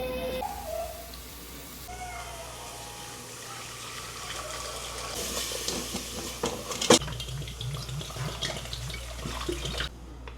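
Running water gushes steadily for several seconds, a continuous splashing flow like a tap filling a pot, with a brief clatter near the end.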